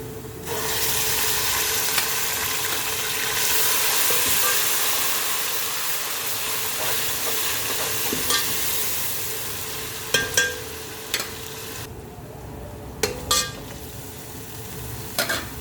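Ginger garlic paste frying in a pan for a paya masala curry gives a steady, close hiss and sizzle, with a few sharp clinks of the spoon against the pan near the end.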